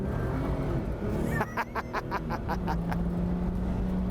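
Morgan Plus 6 engine running steadily while driving, a continuous low drone with a rising tone near the end and a brief burst of rhythmic clatter partway through.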